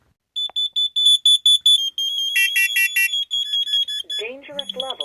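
Several carbon monoxide alarms going off at once, sharp repeating electronic beeps in quick bursts, ending as a synthetic voice warning begins over the beeping.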